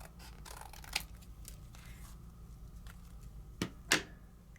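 Scissors trim paper for a craft card, a few crisp snips close by, with two sharper cuts near the end against a quiet background.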